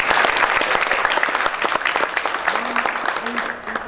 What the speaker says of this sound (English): Another one round of applause for her, please.